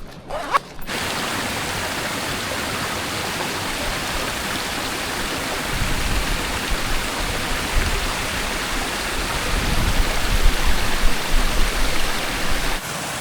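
Mountain stream flowing at the foot of Jacob's Ladder beside an old packhorse bridge, heard as a continuous broad rushing wash of water, steady and fairly loud, swelling slightly toward the end after a brief rustle at the start.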